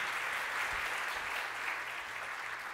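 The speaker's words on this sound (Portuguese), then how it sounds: "Palmas para Jesus." A church congregation claps for Jesus with steady, dense applause that carries on for the whole stretch without letting up. No voices come through.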